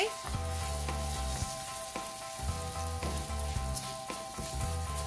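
Rice with vegetables fries in a pan for red rice, a steady dense sizzle close by with rhythmic scraping as it is stirred, and no talk.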